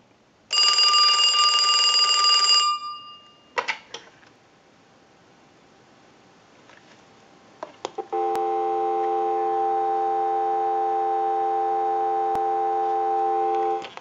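A Western Electric Trimline telephone rings loudly once, followed by a few clicks and a pause, then a steady dial tone hums continuously for several seconds.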